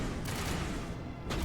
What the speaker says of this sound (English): who's shooting me from the left?